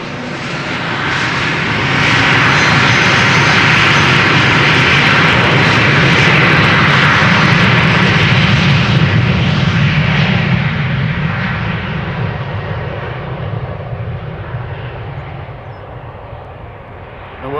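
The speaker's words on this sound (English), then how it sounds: "This airplane, 11 years old, first flight January 2012." An airliner at Amsterdam Schiphol Airport's Polderbaan runway, eleven years old with a first flight in 2012, roars loudly and close for many seconds before its broad engine rumble slowly fades. A voice is faintly heard beneath it.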